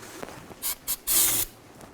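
Short close bursts of aerosol brake parts cleaner hiss onto the axle housing of a 2000-06 Chevy Tahoe during rear axle seal replacement, two quick spurts followed by a longer, louder spray.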